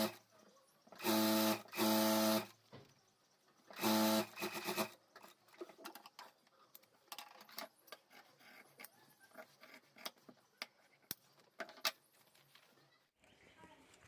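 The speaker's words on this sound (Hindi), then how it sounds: "तो यहाँ मैं सिलाई करके जोड़ देता हूँ।" A sewing machine stitches three layers of handbag lining together, two loud motor runs and a shorter third burst up close, followed by quieter rustling and handling of the fabric.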